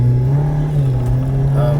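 A 2.0L Jeep Wrangler JL engine, fitted with a performance tuner, pulls steadily under acceleration while driving, a loud, continuous low drone with a rising tone near the end.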